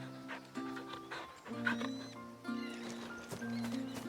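A dog barks and pants in the video game Final Fantasy XVI, with short bursts over a sustained musical score and no talking.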